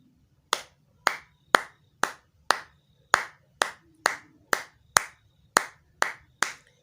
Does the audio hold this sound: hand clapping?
yes